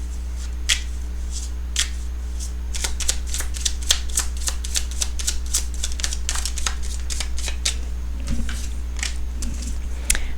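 Tarot cards riffle and slap through repeated shuffles, crisp bursts of flicking card edges in an irregular rhythm over a steady low electrical hum, close and alone.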